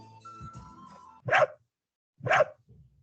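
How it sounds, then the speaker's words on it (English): A dog barks twice, two sharp separate woofs about a second apart, loud and close, after a brief stretch of other faint sound and with no talking. "Dog."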